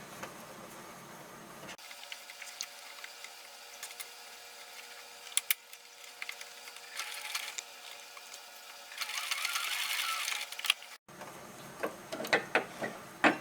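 Sewing machine stitching a fabric backpack for an 18-inch doll, a steady mechanical whir and ticking run between two short pauses, with a louder burst of stitching near the end; no talking.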